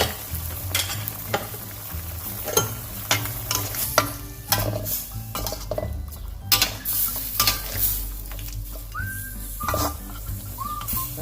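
A curry with bamboo shoots, long beans and kaffir lime leaves is stirred in a pot. A utensil scrapes and clinks repeatedly against the metal over a continuous soft simmering hiss, with a couple of brief high whistle-like tones near the end.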